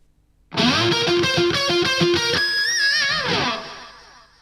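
Distorted electric guitar plays a solo lick, loud and alone: a rapid run of picked notes, then a held bending note with vibrato that fades out.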